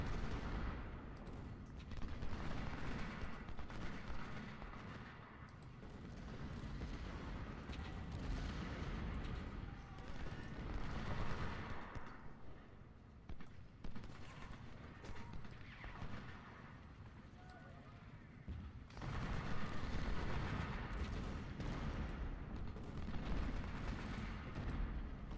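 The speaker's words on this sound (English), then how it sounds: "let's start shelling the fort." Artillery shelling a fort in the Civil War strategy game Ultimate General, with booming cannon fire and explosions layered over a dense battle din of horses and gunfire, loud and continuous throughout.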